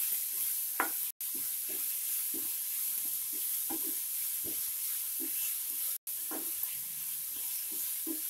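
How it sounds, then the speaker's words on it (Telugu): Vegetables fry in a pan with salted spices for a vegetarian thali. A steady, close hiss of sizzling is broken by regular scraping stirs throughout. "1 టీ స్పూన్ ఉప్పు, మళ్ళీ 5 మినిట్స్ ఫ్రై చేయండి."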